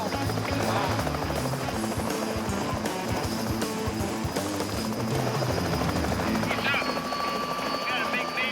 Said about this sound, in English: We was having a good time till Willie showed over this stupid chopper.